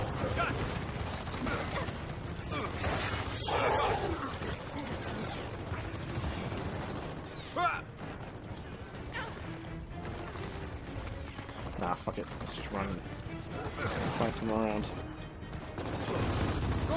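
Gunfire in the shooter game Gears of War 4, bursts of rattling shots and mechanical clatter mixed with game sounds and effects across the whole stretch, dense and busy, with voices talking over parts.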